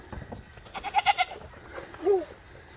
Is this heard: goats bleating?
yes